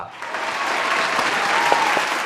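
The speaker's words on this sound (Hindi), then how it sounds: "तो जोरदार तालियों के साथ स्वागत कीजिए" Loud studio audience applause greets a special guest on a Bigg Boss–style show parody, a dense steady roar of clapping that holds strong throughout with a few sharper claps near the end.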